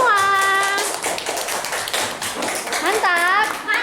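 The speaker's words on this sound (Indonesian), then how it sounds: "Tepuk tangan dulu untuk kita semua." Schoolchildren in a fifth-grade classroom clap briefly and unevenly amid lively chatter, with children's voices and a teacher's sing-song speech rising over and around the patter of hands.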